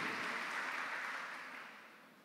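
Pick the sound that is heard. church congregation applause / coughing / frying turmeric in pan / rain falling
church congregation applause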